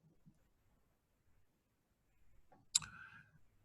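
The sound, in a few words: computer mouse clicking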